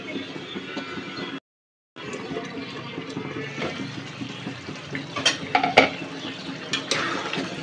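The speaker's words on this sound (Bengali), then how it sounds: "ঘন ঘন একটু পর পর নাড়তে হবে, না হলে নিচে লেগে যাবে কড়াইয়ের নিচে" Potato dal being stirred in a kadai on the stove, with soft scraping and clinking of a spoon against the pan over a low simmering sizzle, growing busier toward the end after a brief silent gap.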